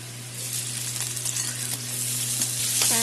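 Onion going into a pan of already fried potatoes with cumin, salt and turmeric for a soybean curry, sizzling steadily and close, with a low hum underneath and a few brief clinks near the end.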